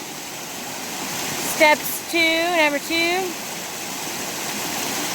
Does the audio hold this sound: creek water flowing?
yes